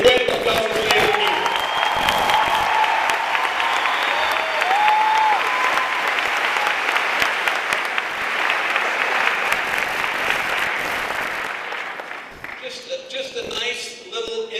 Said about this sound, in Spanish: you folks ought to give yourself a round of applause right now